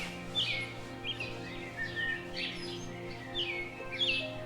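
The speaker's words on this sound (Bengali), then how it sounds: "শুধু গুটি কয়েক পাখির কলকাকলি শোনা যাচ্ছে" Birds in quiet, still countryside at a North Bengal homestay, sending out a few short, high chirps and twittering calls at irregular intervals, moderately distant over a low steady hum.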